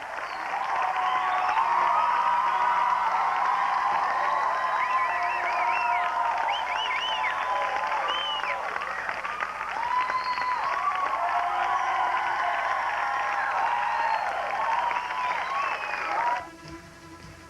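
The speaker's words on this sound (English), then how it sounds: "an enthusiastic crowd was on hand as Adam West and the Batmobile were reunited" Enthusiastic crowd applauding and cheering as Adam West is reunited with the Batmobile, a steady roar of clapping and voices that holds loud for most of the stretch before cutting off near the end, with scattered shouts mixed in.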